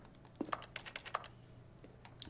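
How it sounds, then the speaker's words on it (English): Quiet, dry computer keyboard clicks, the failed interact button sound in The Stanley Parable, come as a quick irregular cluster of key presses close up, then a lone click near the end. "the failed interact button sound is the sound of somebody hitting a key on a keyboard"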